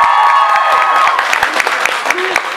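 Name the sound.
audience applause at a book launch event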